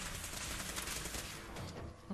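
Gunfire from the video game Fallout 4, a rapid crackling burst of shots blending into a dense, noisy wash that fades slightly toward the end, heard alone without talk.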